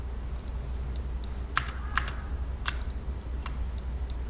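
A computer keyboard is used while modelling in Blender: a handful of sharp, separate key clicks sound against a low steady hum, fairly quiet and with no speech.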